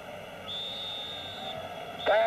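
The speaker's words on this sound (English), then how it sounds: "There's the half-time whistle" A referee's whistle at a 1978 World Cup football match between Scotland and Holland sounds as a long thin tone, then a sharper short blast near the end, heard faintly under stadium crowd noise.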